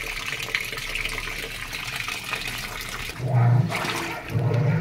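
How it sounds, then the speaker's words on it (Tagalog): A Sharp automatic washing machine, under repair for not draining or washing, fills with water: a steady rushing gush with low churning, loud and close, shifting in tone near the end. "So nagkarga siya ng tubig, and then yan, ayan na, taas ng tubig niya bago siya nag-wash."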